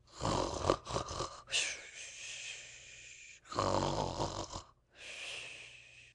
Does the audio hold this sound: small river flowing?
no